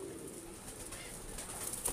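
Pigeons coo softly in a loft, a faint low murmuring with no voices over it.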